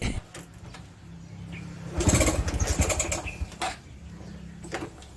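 A motorcycle flooded in water is cranked and sputters to life, a brief rough burst of engine revving, then short uneven bursts as it struggles, with a few bird chirps in the background.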